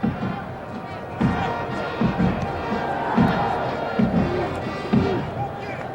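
Stadium crowd of over 28,000 at a 1995 World League American football game between the London Monarchs and Frankfurt Galaxy, a broad sustained roar with occasional swells and thuds, as a commentator talks over it.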